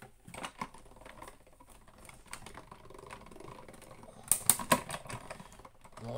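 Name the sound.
paper being run through a die-cutting machine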